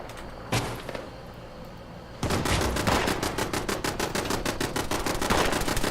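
Enclave turrets in a video game open up with rapid automatic gunfire after a short burst and a pause, a loud, steady stream of mechanical shots that continues to the end.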